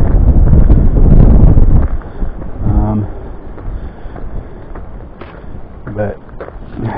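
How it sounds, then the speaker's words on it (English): Strong wind on a mountain along the Appalachian Trail buffets the microphone with a loud low roar for the first couple of seconds, then eases into gusty rumbling while a person talks intermittently. "It's been windy."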